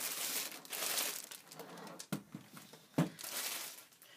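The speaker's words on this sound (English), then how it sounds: "And now let's remove this plastic out of the keyboard" Plastic wrap peeled and crinkled off a Perixx PX-3200 gaming keyboard, a series of close rustling crackles with a few sharper snaps, no talking.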